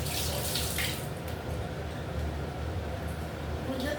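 Tap water runs steadily over fish being rinsed in a kitchen sink, a constant splashing rush that stays fairly close and even throughout.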